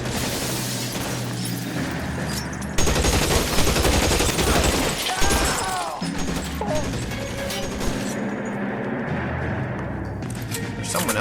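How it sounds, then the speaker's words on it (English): Dense police-shootout gunfire in a video game, rapid bursts and single shots crackling loudly throughout, with voices talking over the firing. "There's someone else shooting."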